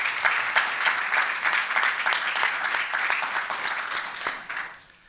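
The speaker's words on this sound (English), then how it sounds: "Can you please help me give them a round of applause?" An audience at a youth symposium in Sandton claps together in a lively, rhythmic burst of applause that stays full for several seconds and then fades out.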